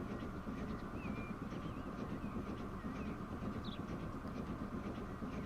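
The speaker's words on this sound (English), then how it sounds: "other Greyhound London South Western Railway's train is just in front of us" A train rumbles steadily along in the UK railway game Transport Fever 2, a continuous dense mechanical roar with faint bird calls above it and no speech.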